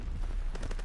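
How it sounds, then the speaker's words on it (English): Mortar rounds in Call of Duty land as a dense run of heavy low thumps and crackling blasts, several distinct impacts over a constant rumble, loud and close. "Enemy mortar fire incoming."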